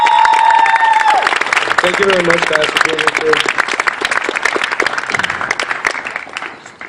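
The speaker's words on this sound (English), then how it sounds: "I want to hear like a big applause for the Men Against Violence members" A campus crowd at Cal Poly Pomona's Walk A Mile In Her Shoes event gives loud, sustained applause for Men Against Violence members. A speaker talks briefly at the start, then the clapping fades out near the end.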